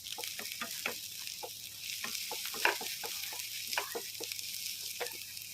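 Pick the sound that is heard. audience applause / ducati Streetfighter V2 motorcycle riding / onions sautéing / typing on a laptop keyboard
onions sautéing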